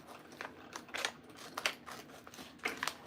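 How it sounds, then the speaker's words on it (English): Scissors snip through Siser Brick heat-transfer vinyl in a quick series of about eight close, crisp cuts, each a short bright crunch separated by brief pauses, with no voices. "I'm just gonna take my scissors"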